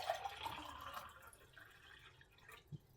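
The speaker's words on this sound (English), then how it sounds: "we take a clean glass, like this, clean glass, and we put some tap water in it" Tap water trickles and drips into a clean drinking glass at a kitchen sink, a soft continuous pour that fades over a few seconds and ends in a single low drip.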